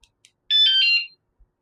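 An e-bike anti-theft alarm gives one loud, close electronic beep lasting about half a second after two faint short chirps, signalling that it is armed, with no talk.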